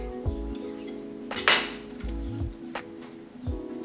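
A knife mixes almond butter in a bowl, with a few sharp metallic clinks and scrapes of the blade against the dish, close and fairly quiet, and no voices.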